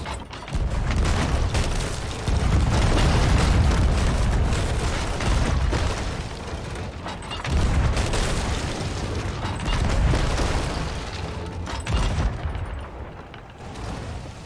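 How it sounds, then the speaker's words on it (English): Ship cannons firing in the pirate game Sea of Thieves, a run of heavy booming blasts that rumble through the whole stretch, loud and dense with overlapping explosions and no clear pauses. "I believe that means he'd like us to use the guns"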